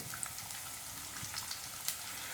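Chopped shallots and onion frying for a Kerala beef curry give a faint, steady crackling sizzle with scattered small pops, close by and without talk.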